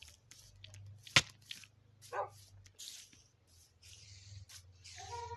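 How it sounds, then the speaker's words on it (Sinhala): A dog barking in the video game Minecraft: a couple of short barks among sparse game sounds, preceded by one sharp click, with another bark near the end. "අන්න බව්වෙකුත්."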